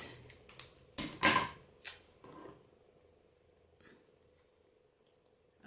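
Scissors snip through a 3D foam adhesive pad during cardmaking, several quick close cuts in the first two seconds followed by quiet handling.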